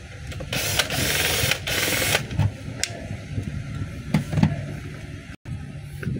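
A screw is tightened into the housing of a DeWalt D25899 10 kg jack hammer, producing close mechanical whirring and ratcheting bursts with a few clicks, moderately loud, without talking.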